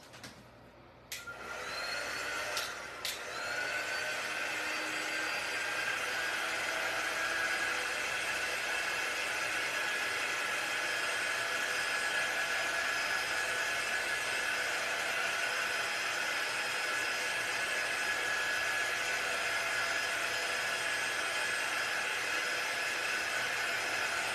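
A heat gun's steady, loud blowing roar of hot air starts after a brief click and runs continuously without pause, with a faint whine riding on top.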